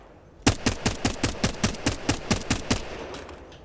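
Spray of automatic weapon fire in Apex Legends: a rapid, evenly paced burst of about a dozen close, loud shots lasting roughly two and a half seconds, then trailing off, with no talking.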